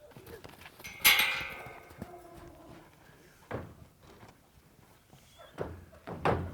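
Hooves of an untouched mustang thud and clop on the floor of a horse trailer, a few scattered heavy steps with hollow knocks spread across the moment, fairly close and unaccompanied by talk.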